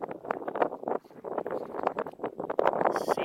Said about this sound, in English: It's kind of windy, so this thing's shaking.